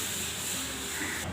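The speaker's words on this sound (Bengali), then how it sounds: "ফোড়ন দিচ্ছি" Black cumin and mustard seeds tempering in hot oil for a sour dal give a steady, close, fairly loud hiss that holds unbroken for the whole short moment.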